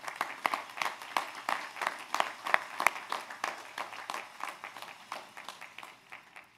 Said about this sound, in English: I just want to give them one extra special round of applause as well